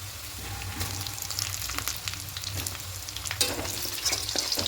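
Half-boiled potato pieces fried with onions over very low heat for a quick chicken biryani, a soft continuous sizzle broken by spatula scrapes and stirring clatter, with no speech.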